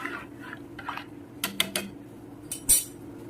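Rice being stirred in a cooking pot: a few quiet scrapes and sharp metallic clinks of a spoon against the pot, close and sparse, with no one talking.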